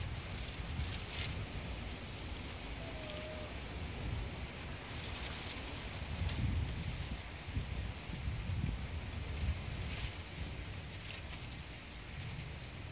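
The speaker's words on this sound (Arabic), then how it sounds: "الرياح قوية جدا،" Strong wind gusting steadily outdoors in a rural yard where roosters and hens are kept, a dense, continuous rush with louder surges partway through and no talking.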